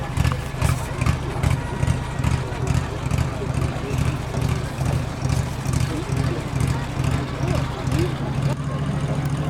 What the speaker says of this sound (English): the aircraft has electricity to be able to fire up those beautiful engines